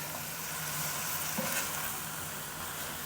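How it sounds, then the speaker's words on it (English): Kale wilting down in a pot for a bean and kale soup gives off a steady, even sizzle and hiss, close and continuous, with a couple of soft stirring sounds midway. "So we just added half of the kale, and we're going to let it cook down."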